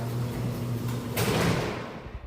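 A commercial garage door at a ski resort home rolls straight up, a steady mechanical rumble with a low hum that swells into a broad rushing clatter partway through, then tapers off.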